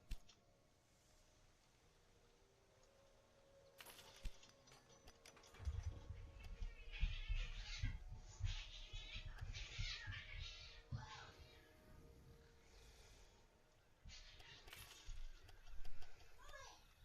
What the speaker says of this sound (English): yes, that was my cats fighting.